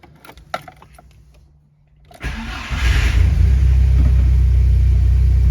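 A turbocharged MK2 VW Golf GTI cranks and fires up after a quiet moment, then settles into a loud, steady, close idle rumble.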